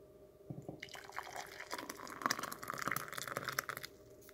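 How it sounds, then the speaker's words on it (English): Sleepy late-night kitchen pour of homemade hot dark chocolate into cups: a soft liquid stream and trickle with a few drips, quiet and close, no voices. "now I got to attempt to pour it into these cups"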